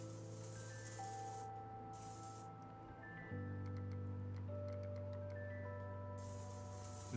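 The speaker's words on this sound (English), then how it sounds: "Is that the black spray again?" Black spray paint hissing from a can in the video game SuchART, a steady continuous spray running under sustained tonal game music for several seconds.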